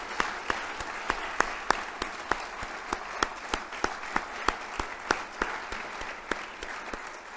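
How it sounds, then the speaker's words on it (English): Sustained audience applause at an awards evening for nominees and winners, a full steady patter of many hands with occasional sharper individual claps standing out. "one more round of applause, if you would, please, for all of our outstanding nominees and winners this evening"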